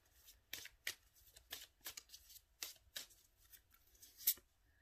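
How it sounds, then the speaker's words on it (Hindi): A deck of tarot cards being shuffled by hand, a quiet close run of about a dozen crisp riffling bursts in an uneven rhythm, with no talking. "इसको मैं अच्छे से शफल कर दूं।"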